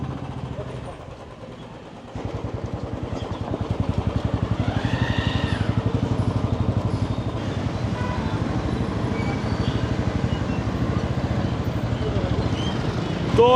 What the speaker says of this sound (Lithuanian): Toks tas eismelis pilnas šiaip.